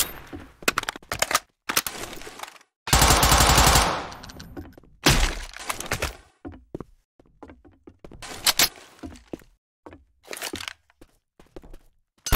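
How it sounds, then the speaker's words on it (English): Machine guns fire in Left 4 Dead 2, loud automatic bursts of rapid shots with a long sustained burst in the middle, broken by short gaps. "I guess I think this is a machine gun."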